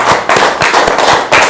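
An audience claps in a short burst of sharp, close, loud hand claps that repeat quickly for about a second and a half, with no talking.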